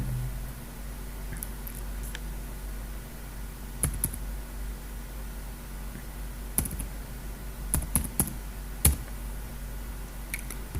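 Keys on a computer keyboard typed while entering an NIC number into an online account form. The taps come as sparse, irregular clicks over a steady electrical hum, with a few small clusters of quicker presses.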